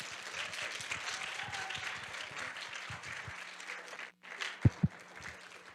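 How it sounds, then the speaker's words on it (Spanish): An audience applauds a speaker at a technical lecture on natural gas membrane technology, with dense steady clapping for about four seconds. It then breaks off, and a few loud isolated claps follow. "Démosle un afectuoso aplauso al doctor José Manuel Pérez Francisco"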